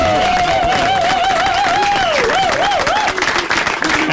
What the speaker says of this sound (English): these comedians deserve a huge round of applause